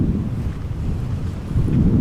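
Strong wind roars across the microphone at Amsterdam Schiphol Airport, a dense, continuous low buffeting that swells slightly toward the end, with no voices.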